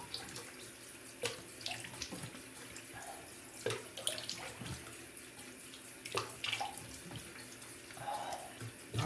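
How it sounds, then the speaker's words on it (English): A bathroom tap runs into a sink as water is used for rinsing after a wet shave, a steady moderate flow broken by scattered splashes and soft drips, close by with no talk. "rinse with some fresh water"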